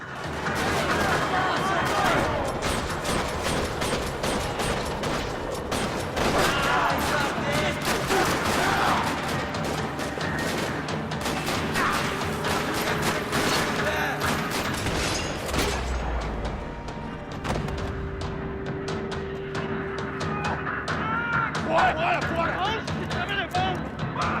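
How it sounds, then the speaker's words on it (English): Rapid bursts of automatic gunfire and single shots echo through a parking lot in Max Payne 3, dense and loud throughout with booms and running footsteps mixed in, and voices speaking over the action. "Another parking lot rattling with gunfire."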